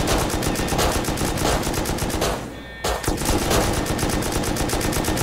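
Rapid automatic gunfire in the survival video game Rust, dense bursts of shots rattling close and loud, with a brief lull midway before the shooting resumes.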